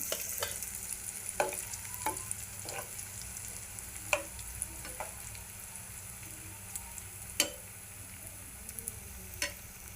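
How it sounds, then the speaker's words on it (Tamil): Bread frying in hot oil on a stove at medium heat, giving a steady close sizzle with scattered crackles and occasional sharper pops throughout, no talking. "இப்போ ஆயில் நல்லா சூடாயிடுச்சு இப்போ வந்து நம்ம ப்ரெட்டை பொறிச்சு எடுத்துக்கலாம்"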